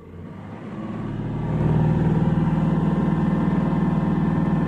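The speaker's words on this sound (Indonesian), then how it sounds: "Untuk mengecekkan engine low idle dan high idle" A Scania truck engine idles at low RPM, around 502 RPM, with a steady, close diesel rumble that grows slightly louder and fuller partway through, then holds an even, pulsing drone.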